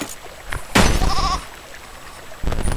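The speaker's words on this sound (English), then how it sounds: "Now free the goat to transform this glitchy program into a smash hit!" A goat bleats once in the video game There Is No Game, a loud wavering cry amid glitchy game noise and clicks, with a burst of sound returning at the end.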